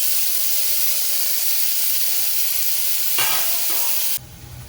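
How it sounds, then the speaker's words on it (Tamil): Onions and tomatoes are cooked down in a pan for sambar. A loud, continuous sizzling hiss fills most of the clip, briefly broken by a stir, then drops abruptly to a quieter simmer near the end. "வெங்காயம் தக்காளி நல்லா வதங்கிடுச்சு."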